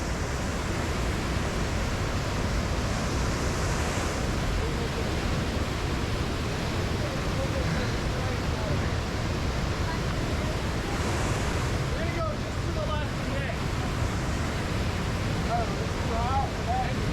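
Whitewater on the Ocoee River rushes and roars steadily around a raft, a dense, loud, unbroken wash of water noise with wind buffeting the microphone and faint voices under it.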